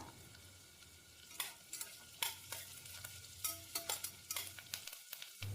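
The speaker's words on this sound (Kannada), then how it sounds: "1-2 ನಿಮಿಷ ಎಣ್ಣೆ ಜೊತೆನಲ್ಲೇ ಫ್ರೈ ಮಾಡ್ಕೊಳ್ಳೋಣ." Finely chopped onions frying in oil for dhaba-style dal khichdi, giving a low steady sizzle broken by repeated scraping stirs and clicks of a spoon against the pan, with no voices.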